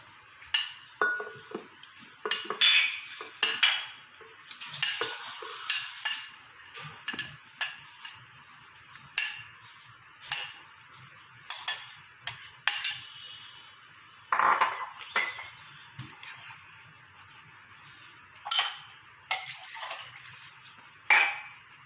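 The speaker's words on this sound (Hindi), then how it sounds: "अब हम जग में आड़ू डालते हैं।" Peeled, cut peaches dropped into a jug in a home kitchen, a series of separate wet clinks and knocks against the container, close and fairly loud, coming in irregular bursts with quiet gaps between.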